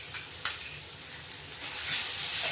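Ground garlic, ginger and green chili sautéing in a pan, a soft steady sizzle with a brief utensil clink near the start, growing slightly louder toward the end.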